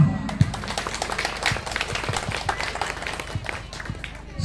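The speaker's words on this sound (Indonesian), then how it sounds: "Jadi monggo kita tepuk tangan untuk kita semua." An audience at an Independence Day prize-giving gathering claps in loose, uneven bursts of close, sharp hand claps with scattered taps, and voices are heard among them.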